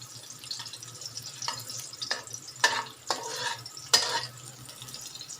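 Ingredients are stir-fried in a pan for chicken rice. Soft sizzling runs under several scraping, rattling stirs at irregular intervals over a low background hum.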